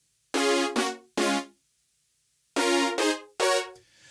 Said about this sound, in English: The brass sounds like this now.